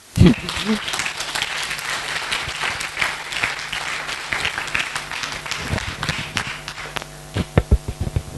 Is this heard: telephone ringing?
no